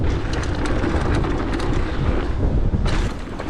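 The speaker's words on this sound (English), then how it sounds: "Wow, this wind is actually unreal." Strong wind roaring across a microphone while mountain biking, loud continuous buffeting rumble that stays dense throughout with only a slight dip at the end.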